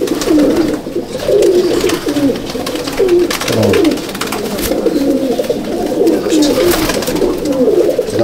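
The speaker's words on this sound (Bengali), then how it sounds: "এই এক জোড়া পায়রা" A pair of Kalduma Madrasi pigeons, a male and a female, coo steadily at close range, their low throaty calls rolling and overlapping without pause throughout.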